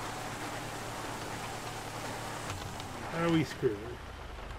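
Rain falling in a driving video game, a steady soft hiss running throughout under a brief spoken question.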